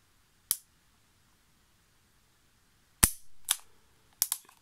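Sharp metallic clicks of a Colt Python revolver's hammer dry firing, one alone, then a quick cluster of several more after a pause, crisp and close.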